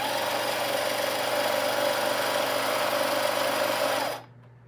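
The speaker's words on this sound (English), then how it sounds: "I guess that's how you turn the pump on." An Etenwolf battery-operated air compressor pump runs with a steady, buzzing mechanical whine, close and constant, before abruptly switching off near the end.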